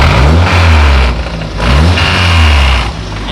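A Mazda Miata engine with suspected rod knock, revving loudly in two long surges with a brief dip between them, heard up close with no talking.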